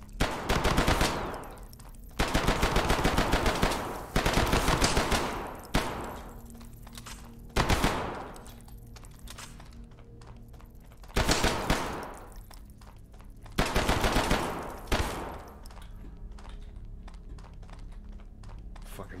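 Loud bursts of rapid automatic gunfire in the video game Hidden Deep, several separate volleys of one to two seconds each, with quieter game sounds between them.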